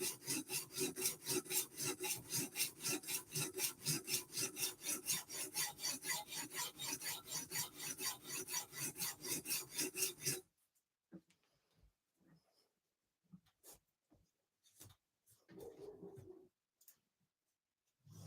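A MicroTech Stitch knife blade strokes steadily across UKSG sharpening stones in a fast, even rasping rhythm for about ten seconds, then stops, leaving a few faint scattered scrapes and taps.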